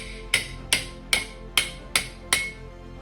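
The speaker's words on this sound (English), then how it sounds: "Use a cross peen hammer and then put it on the step, those 2 steps of the anvil." A cross peen hammer shapes a steel sabaton plate on the stepped edge of an anvil: six sharp, ringing metallic strikes at an even, unhurried rhythm, each ring fading briefly before the next blow.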